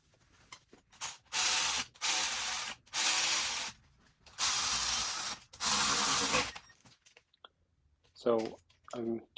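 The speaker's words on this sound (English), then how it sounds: "So I'm torquing the bolts here now" A torque wrench ratchets while tightening bolts on the rear case of a Honda CX500 motorcycle, several loud, close bursts of rapid clicking with short gaps, followed by someone speaking briefly.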